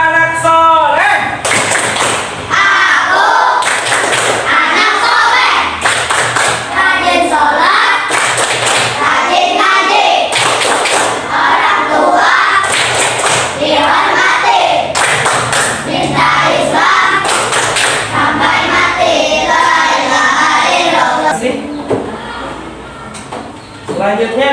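A primary school class in Kabayan claps along to the 'tepuk anak soleh' chant, rhythmic groups of sharp hand claps mixed with children's voices chanting throughout, loud and close.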